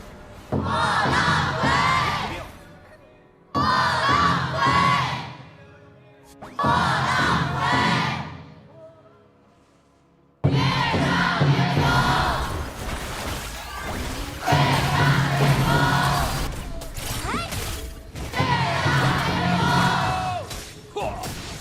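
An esports crowd at a grand finals arena roars and cheers in loud bursts, first three separated waves, then a long sustained swell of shouting and chanting.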